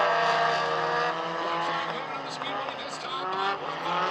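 Black number 56 four-cylinder race car at Maquoketa Speedway, a loud continuous engine drone with layered harmonics and slight pitch shifts, with other cars mixed in and commentary voices over it.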